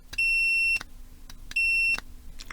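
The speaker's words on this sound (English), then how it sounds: "So with continuity, we can check whether or not it's good." A multimeter gives two steady continuity-test beeps, each under a second long with a short gap between, clear and close with faint clicks around them.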